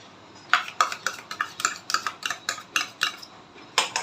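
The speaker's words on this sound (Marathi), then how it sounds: "आणि व्यवस्थित मिक्स करून घ्यायचं" Steady rhythmic clanks of a spoon stirring blended mango pulp into semolina sheera in a metal pan, about a dozen close, evenly spaced strokes with no voices.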